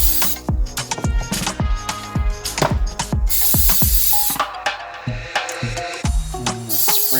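Cooking spray hisses in a series of short, close bursts onto tortillas, with soft tapping and thuds between the sprays.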